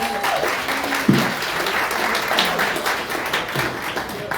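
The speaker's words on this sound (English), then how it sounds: "give her a round of applause." A crowd applauds at a baking awards gala dinner with steady, dense clapping throughout, close and lively.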